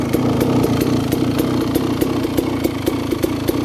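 A motorcycle engine fitted with a Keihin PWK 36 carburetor and JD jetting kit runs steadily at idle, a loud close chugging rumble with regular rhythmic pulses and no voices.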